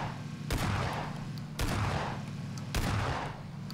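Three heavy gunshot blasts in PUBG, each a loud booming crack with a long rolling tail, spaced about a second apart, close and with no talk.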